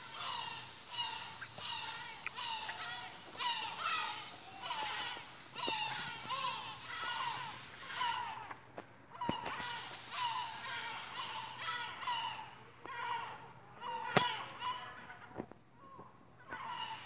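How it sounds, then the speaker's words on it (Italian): Harsh, repeated yellow-legged gull calls ring out in quick bursts, several birds overlapping, loud and close, with occasional sharper cries and short pauses. "Sentite il richiamo dei gabbiani reali."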